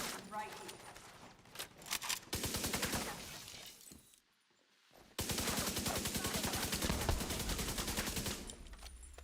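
Automatic gunfire in Division 2, loud rapid bursts of rattling shots that break off briefly and then resume in a long sustained stream, with a voice speaking over the shooting.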